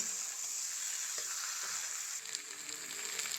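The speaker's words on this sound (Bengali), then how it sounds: "আলু আর মটর আমি মশলার সঙ্গে খুব ভালো করে কষিয়ে নিয়েছি" Potatoes and green peas tossed with spices in a hot pan for a Bengali curry, giving a steady close sizzle with a few faint stirring scrapes, no voices.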